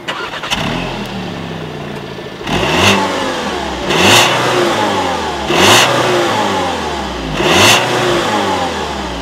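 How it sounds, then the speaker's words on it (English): Dual-tipped exhaust of a 2016 Volkswagen Beetle Dune revved four times in steady succession, each loud rising roar falling back to a rumbling idle between blips, close and with no voices. "here is that exhaust clip"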